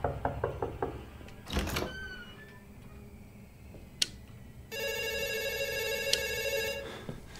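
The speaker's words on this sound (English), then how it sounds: "Well, I gotta get the phone." A telephone rings in a horror video game, a bright electronic bell trill near the end after a few sharp knocks and clicks, close and clear with no speech.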